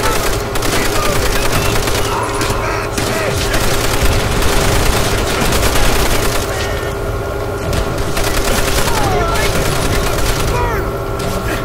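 Steady gunfire fills a Call of Duty: World at War match, with rapid rattling shots and crackling impacts running almost without a break over a constant ambient hum.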